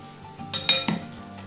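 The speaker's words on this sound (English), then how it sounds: "And again, give it another really good mix." Dressed watermelon and arugula salad tossed in a bowl, a short burst of a few clinking, scraping utensil knocks against the dish, close and brief.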